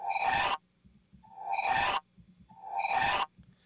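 Three choppy, gated guitar bursts, each cut off abruptly, separated by brief near-silent gaps with faint low sounds between, in an even stuttering rhythm.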